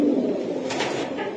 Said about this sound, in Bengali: কবুতরগুলো দেখতে অনেক সুন্দর লাগে, তাই না?